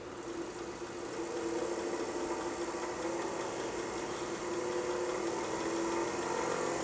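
Watchmaker lathe motor spinning at 3,000 RPM, a steady continuous whirring hum with a high whine, even and unbroken throughout with no voices.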